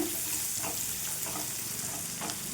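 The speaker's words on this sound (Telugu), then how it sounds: "ఇది మంచి కలర్ వచ్చేంత వరకు వేయించుకోవాలండి ఆయిల్లో" Tamarind sizzles in hot oil in a pan, a steady close frying hiss with faint stirring scrapes, heard alone without talk.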